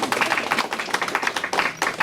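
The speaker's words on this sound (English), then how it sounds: "I think that merits an extra clap" An audience applauds a presenter at a conference, dense clapping from many hands, close and steady, briefly dipping before resuming.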